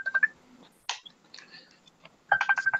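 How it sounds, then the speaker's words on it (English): A phone ringtone plays in short bursts of a repeating tone, starting, pausing, then resuming near the end, with brief voices in the gaps. "Can you mute it so it's not ringing?"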